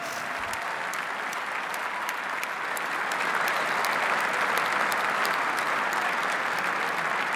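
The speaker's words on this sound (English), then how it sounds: "please, one more round of applause for our Best of Belron 2018 team" Sustained applause from an audience at a live corporate awards ceremony, a dense, even wash of clapping that swells slightly louder partway through and carries on without a break.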